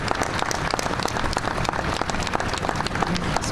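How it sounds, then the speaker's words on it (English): An audience at a Memorial Day wreath-laying ceremony applauds cadets with steady, dense clapping that runs unbroken throughout, loud and full, with no talk over it. "Let's go ahead and give them a big round of applause"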